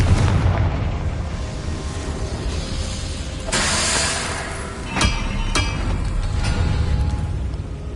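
Confringo fire spell explosions in Hogwarts Legacy gameplay, a loud booming burst followed by sharper blasts and crackles over a steady rumbling game background, with no talk.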